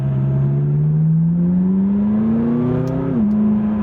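A McLaren 570S exotic sports car driven in manual mode accelerates with a loud, close engine note that climbs steadily, dips briefly as if shifting near the end, then holds, with no voices.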